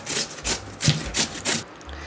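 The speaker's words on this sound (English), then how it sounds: "I chose this grater so you can actually see the grating process and what these potatoes are actually going to look like." Raw potatoes rubbed against a hand grater for hash browns make five rhythmic, close rasping strokes, each a short scratchy burst with brief pauses between.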